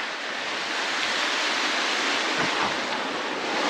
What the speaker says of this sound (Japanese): ここ川が流れてますんで